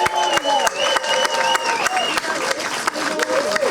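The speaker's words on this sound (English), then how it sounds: "Let's have another round of applause for all the honorees." An audience at an LGBTQ+ heroes award ceremony claps for the honorees, a loose spatter of claps mixed with crowd chatter and voices talking over it.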